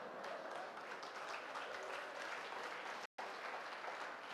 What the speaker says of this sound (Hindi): ये कितने लड़के ताली बजा रहे हैं